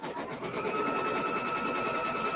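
Embroidery sewing machine stitching quilt block appliqué in a hoop, a steady fast whirring hum with rapid regular needle pulses, close and continuous throughout.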